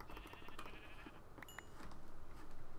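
Sheep bleat in Minecraft, several short bleats in quick succession followed by a couple of higher, tonal calls, faint and without talk.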